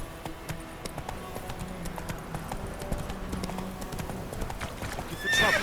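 Horse hooves clip-clop at a steady galloping rhythm across the whole stretch in The Witcher 3 video game, close and clear, with a brief whinny near the end.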